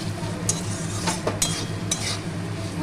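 Spice mix stirred in a pan for a Bengali pui shaak chhechra dish, a few sharp scraping and clinking strokes of a spatula against metal over a low background hum.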